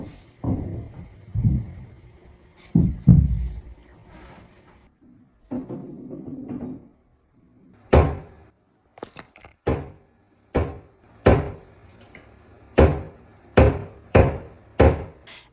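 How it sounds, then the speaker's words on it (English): Loud deliberate banging on the ground, first a few dull muffled thuds, then a run of sharp, heavy impacts spaced about a second apart, close and prominent against near silence. "showing these recordings of when I heard like such loud banging."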